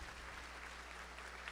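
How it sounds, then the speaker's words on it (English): An audience applauds at a Tomball ISD school A+ awards ceremony honoring Decker Prairie Elementary students, faint steady clapping from a distant crowd over a low hum, with no talk. "join me with one more round of applause for our students from Decker Prairie Elementary"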